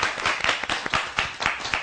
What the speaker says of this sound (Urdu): حضرات ان کے لیے تالیاں ہونی چاہیے